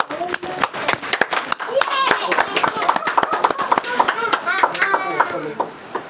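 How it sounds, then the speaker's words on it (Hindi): Audience clapping hands in thanks at a Hindi Christian gathering welcoming a prophet, sharp claps scattered through the whole stretch while a voice speaks over them. "तो हम ताली बजाकर हृदय से धन्यवाद करते हैं।"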